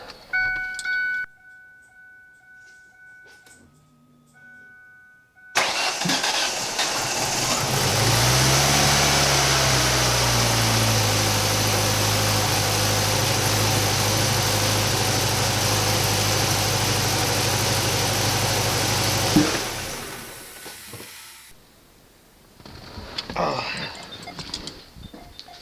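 A car engine starts and settles into a steady, loud idle for about fourteen seconds with the clutch and brake held in, then shuts off, with quiet surroundings before and after.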